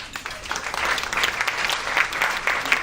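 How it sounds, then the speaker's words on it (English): Audience applause after a presentation at an end-of-event ceremony, a steady patter of many hands clapping at moderate loudness, continuing through the whole stretch. "Big round of applause"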